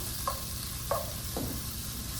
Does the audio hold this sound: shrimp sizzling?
yes